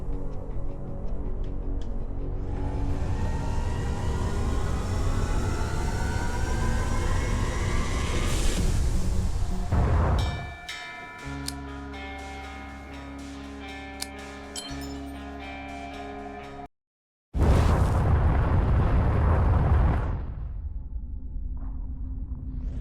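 A spaceship's jump drive transit in the space combat game Everspace: a rising, sweeping whoosh builds into a loud roar, then shifts to a droning hum with tonal layers, cuts to brief silence, and bursts back loud.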